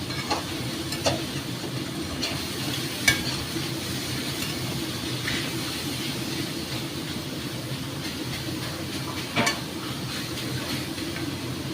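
Pineapple syrup cooking in a pan for a sweet-and-spicy pineapple chutney: a continuous low bubbling and sizzling, steady and fairly loud throughout, with a few faint clinks and no talking.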